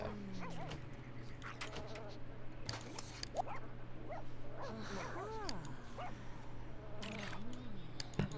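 A dog in The Sims: Unleashed yipping and whimpering in short bursts over looping game music, with a person talking throughout.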